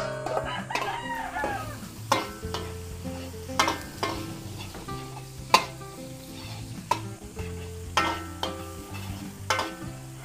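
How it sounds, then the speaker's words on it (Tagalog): Onion and chicken fillet sauté in a pan under a low continuous sizzle, while a spatula scrapes and knocks against the metal in sharp, regular strokes, with steady tonal sounds in the background. "Gisa po natin yung ating sahog, chicken fillet."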